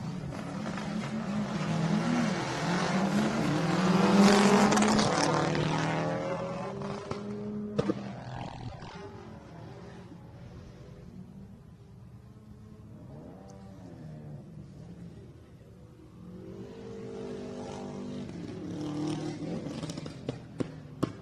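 A rally car at the 2023 PowerPlay Adelaide Hills Rally roars past on a special stage, its engine loud and revving near the start, then fading into the distance, with faint car noise returning later.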